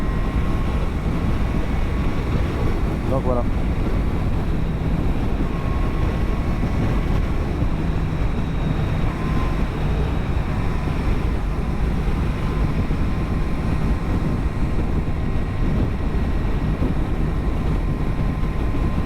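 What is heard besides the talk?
motorcycle riding at 120 km/h with wind noise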